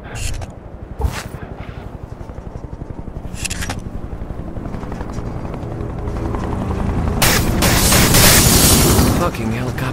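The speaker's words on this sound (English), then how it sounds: "Fucking helicopters again." A helicopter's steady, chopping rotor drone builds in loudness throughout a scene in the video game Wanted: Weapons of Fate, with bursts of gunfire and explosion-like hits cracking over the top.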